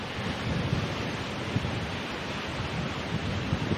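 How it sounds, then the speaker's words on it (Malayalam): Steady broadband rush of Urakkuzhi waterfall, a small waterfall near Kakkayam dam, roaring continuously and fairly close with no talk. "ഇതാണ് ഉരപ്പുഴി വെള്ളച്ചാട്ടം"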